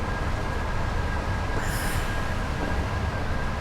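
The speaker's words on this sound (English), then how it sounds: "Locomotive brake coming in" Steady rumbling rail noise from a Class 86/4 electric locomotive in a train simulator game, with a brief hiss near the middle as the locomotive brake applies, heard alone with no talking.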